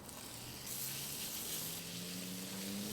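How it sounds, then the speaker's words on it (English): Bacon strips sizzling on a Santa Maria grill while cooking cowboy charro beans, a steady hiss and crackle of fat that grows louder as more strips are added, with no talking. "And now let's place in our bacon."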